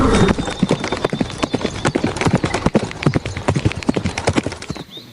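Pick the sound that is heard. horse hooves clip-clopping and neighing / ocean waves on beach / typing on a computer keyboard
horse hooves clip-clopping and neighing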